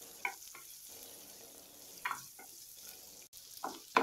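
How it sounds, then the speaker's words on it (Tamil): Small onions sautéing in a pan for beetroot poriyal, a soft low sizzle punctuated by occasional spatula scrapes and stirs, close but fairly quiet, with no voices. "வெங்காயம் பாத்தீங்கன்னா நல்லா பச்சை வாசனை போக வதங்கினா போதும்"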